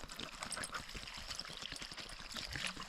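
Water is poured out for a dog to drink on a mountain hike near Rock Creek Road, giving a steady, close trickling splash that runs unbroken for a few seconds under faint outdoor ambience.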